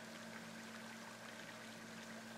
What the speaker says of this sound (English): I'm at the creek.